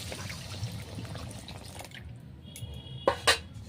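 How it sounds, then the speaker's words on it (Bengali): Water is poured into a pan of eggplant, potato and fish curry with spices cooked in, a soft liquid wash followed by a couple of brief splashy drips at close range. "এবার আমি পরিমাণ মতো জল দিয়ে দেব।"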